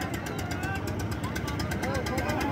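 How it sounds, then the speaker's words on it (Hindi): A generator engine runs with a steady, rhythmic pulsing drone amid dense, loud background noise, continuous throughout. "जनरेटर वाला इंजन छे"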